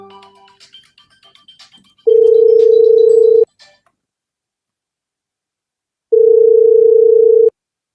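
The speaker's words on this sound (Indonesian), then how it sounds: "Ya, saya ada telepon masuk." Two long, loud, steady electronic telephone tones, each lasting over a second, sound alone with a long silent gap between them, signalling an incoming call.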